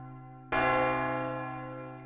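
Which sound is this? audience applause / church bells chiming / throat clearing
church bells chiming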